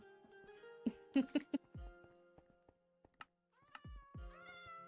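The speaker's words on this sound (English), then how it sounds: "That's my favorite part about this place is all the cats." A cat meows several times nearby, short rising calls in a cluster followed by a longer drawn-out meow, with faint tapping and quiet gaps in between.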